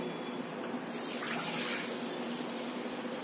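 Water pours steadily into a cooking pot in a continuous splashing stream, close by, building slightly as it fills.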